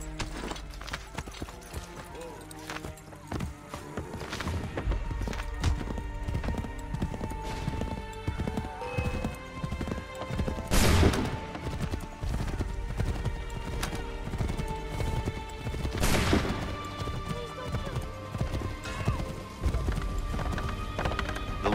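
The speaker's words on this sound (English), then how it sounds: "Get on that horse." A horse gallops in Assassin's Creed III, its loud rhythmic hoofbeats pounding continuously along with a neigh, game sounds and some speech mixed in.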